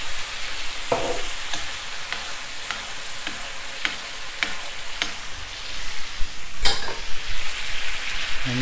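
Minced beef with chili oil stir-fries in a hot pan, giving a steady, close sizzle with repeated scraping and clacking strokes as it is mixed, with no talking.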